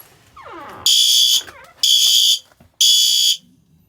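A fire alarm sounds during a system test, letting out three loud, evenly spaced buzzing blasts with short gaps between them. Faint handling noise comes before and after.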